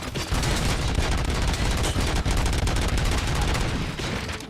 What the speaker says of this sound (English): They got machine guns. They're shooting me top, bottom, left, right, everywhere.